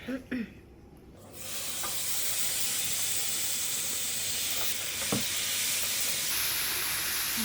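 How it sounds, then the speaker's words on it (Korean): Marinated duck bulgogi with onion hits a hot griddle, and a loud, broad sizzling hiss rises after a second and holds steady, with a few faint clinks over it. "이거 불판에 넣겠습니다"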